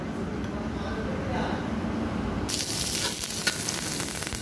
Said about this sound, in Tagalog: gisa natin yung sibuyas saka loya, bawang, sabay.